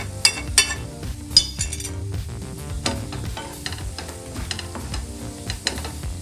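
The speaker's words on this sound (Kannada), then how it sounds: "ಹೀಗೆ ಫ್ರೈ ಮಾಡ್ತಾ ಆಲೂಗಡ್ಡೆನ ಇದರೊಳಗೆ ಹಾಕ್ಕೊಂಡ್ಬಿಡೋಣ." Potatoes frying in a pan for a Karnataka-style achari aloo, with a steady sizzle under brisk stirring, as a utensil repeatedly clinks and scrapes against the pan, close-up with no voices.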